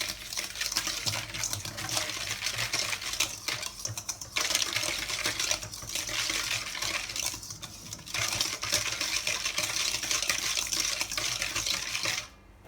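Sugar, salt and milk powder stirred together in a bowl for Hokkaido milk loaf dough: a continuous, close scraping and clinking rustle with short pauses, no voices.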